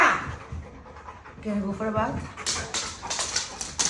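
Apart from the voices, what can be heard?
big dog panting and whimpering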